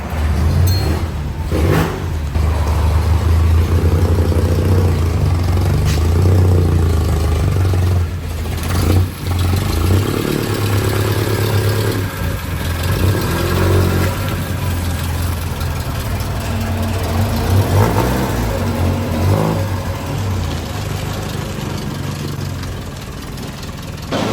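A 1953 Needlenose Peterbilt truck engine runs with a deep, steady rumble, close and loud throughout, with slight changes in revs and people talking over it.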